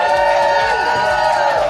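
A live crowd at the finals of a 3D CAD speedmodeling world championship cheers and whoops loudly as one continuous roar, with some voices rising above the mass.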